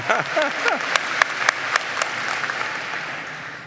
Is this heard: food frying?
no